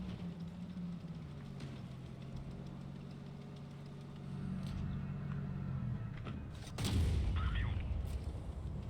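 Heavy booming tank shell impacts and rumbling engine noise in World of Tanks Blitz, with a loud burst near the end over a steady low mechanical drone.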